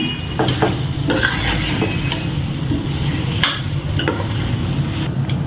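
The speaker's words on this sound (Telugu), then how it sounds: "పసుపు వేసుకున్నాము ఇప్పుడు బాగా కలుపుకుంటాము" Potato and tomato curry with turmeric being stirred in a pan, with steady scraping and sizzling close up and occasional sharp clinks of the spoon against the pan for several seconds, no voices.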